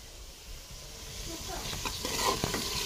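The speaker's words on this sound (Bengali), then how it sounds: "আর এই যে পোলাওয়ের জন্য মশলা ভাজছি" Spices fry in a pan for pulao, a soft sizzle with stirring scrapes that swell toward the end, close and fairly quiet.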